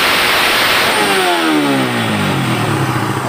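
A Suzuki Raider 150 motorcycle engine with a new CDI and rewired ignition screams at very high revs, loud and close, with the pitch dipping then climbing again as the throttle is worked.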